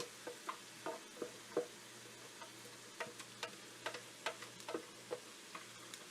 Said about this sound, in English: Get our little rubber spatula here to scrape all the other onion bits out of the bottom.